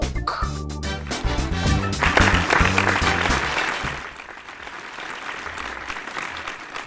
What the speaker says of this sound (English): That's a loud applause today, a loud applause.